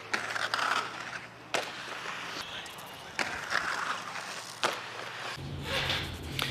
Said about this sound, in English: I'm just gonna do a back royale on this ledge real quick